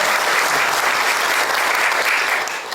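Loud, dense congregational applause welcoming a visiting men's mission group at a Presbyterian prayer breakfast, a steady wash of clapping with no gaps.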